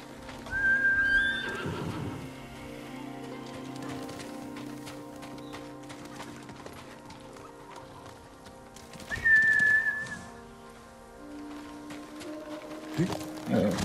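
A horse in the Ghost of Tsushima game gives two distinct whinnies, one early and one near the end, with the soft clip-clop of hooves running beneath and a faint ambient backdrop.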